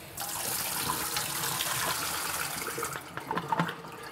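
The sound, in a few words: pouring liquid out of a film developing tank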